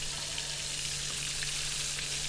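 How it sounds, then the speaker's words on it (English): Frog legs frying in hot oil at medium heat, a steady, close, bright sizzle and crackle that holds constant without talk. "our frog legs are already starting to sizzle up and getting really good and starting to turn golden brown"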